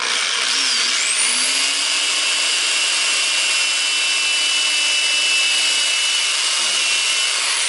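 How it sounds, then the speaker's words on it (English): A small electric drill whines steadily at high pitch for several seconds, boring a small hole into PVC with a continuous grinding buzz, close up and alone. "Drill that into the PVC"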